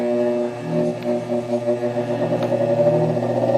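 An old bench grinder whines with a steady motor hum, its tone climbing slightly while it cleans up cut metal pieces for a homemade chainsaw grinder build, with faint clatter as the work touches the wheel.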